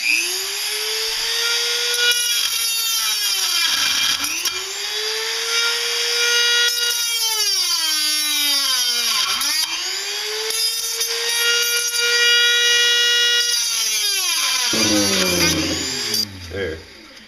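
A Dremel rotary tool cleaning up a metal lid for a wood gas stove, a high motor whine rising and falling in pitch over several passes as it bogs down against the metal, with short pauses between.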